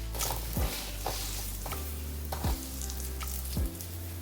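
Close, wet squishing and crackling as dye is worked through hair, with soft low thumps at irregular intervals.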